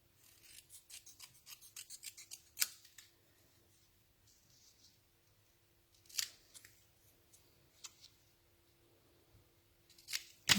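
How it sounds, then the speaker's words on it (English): Scissors snip and trim paper tightly for a nature and butterfly papercraft project, a quick run of crisp close cuts followed by a few isolated louder snips, with no talk. "So we're just going to trim this down. Just trim it really tightly."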